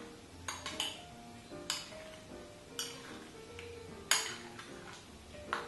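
Honey being stirred into boba balls in a bowl, with a few sharp clinks and scrapes of a utensil against the dish over a soft, steady background, no talking.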